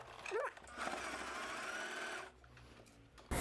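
A sewing machine stitches a seam along the edge of fabric, a steady close mechanical whirr that runs for about two seconds and then stops, with brief handling noises before and after.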